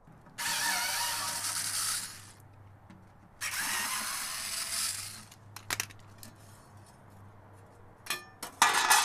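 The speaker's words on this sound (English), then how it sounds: "But let's remove this bottom plate and see what's in there." A power tool whirs in two long bursts while the bottom plate of a cheap safe comes off, followed by clicks, clatter and loose metal rattling up close.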